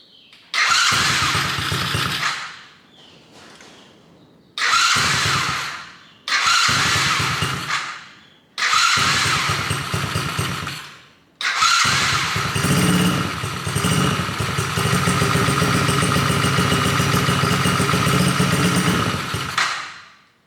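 A Coolster 110cc dirt bike with a freshly swapped carburetor is cranked several times, catching briefly in short bursts before it starts and settles into a steady, loud, buzzing idle that runs for about nine seconds.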